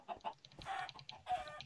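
Chickens in the Minecraft video game cluck in a few short bursts and two longer squawks, fairly quiet and alone with no talk.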